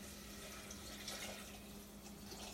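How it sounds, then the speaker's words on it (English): Water is poured into a pot of sautéed vegetables for miso soup, a steady broadband splash and rush running unbroken for the full length at moderate, close range, with no voices. "I'm just going to add my water."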